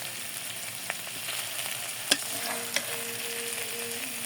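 Onions fry in oil for a fish curry, a steady close hiss of sizzling with occasional spoon scrapes and a couple of sharp clicks against the pan, no voices.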